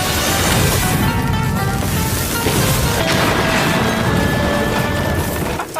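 A gas cylinder explodes after being set off with a lit cigarette, a loud continuous crashing roar that fills several seconds before cutting off abruptly.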